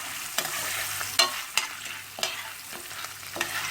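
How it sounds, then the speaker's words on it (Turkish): Popcorn kernels being stirred in hot oil in a pot, a steady sizzle broken by several sharp scraping strokes at an uneven pace, close and fairly quiet. "Sürekli karıştırıyoruz."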